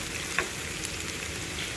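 Onion and garlic fry in a pan, browning for a fish dish: a soft, steady sizzle runs at low level throughout, with one brief tick of a stir near the start and no voices.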